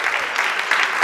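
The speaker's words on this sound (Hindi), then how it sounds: "पद्मश्री सोनू निगम जी की तरफ हम जोरदार तालियों के साथ अभिनंदन करेंगे इनका" An audience claps warmly for Sonu Nigam at the Shri Shankar Shambhu Memorial Award felicitation, a thick, continuous patter of many hands that swells slightly in waves over one second.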